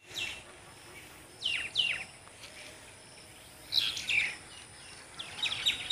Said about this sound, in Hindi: यहाँ पे जो है ना चिड़ियों की चिलचिलाहट है अभी तक